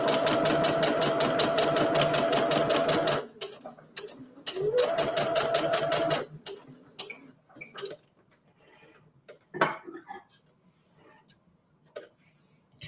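Sewing machine stitching a Christmas tree table runner corner to corner, a steady close whirring run that stops, restarts briefly, then gives way to faint handling clicks and rustles.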